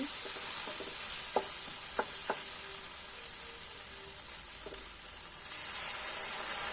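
Tomato masala frying in oil, a continuous bright sizzle with a few faint stirring clicks in the first half, close and steady, no voices.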